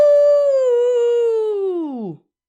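Person imitating a wolf howl with a single long, steady sustained tone that bends downward and cuts off sharply at the end, close and clear with nothing else heard.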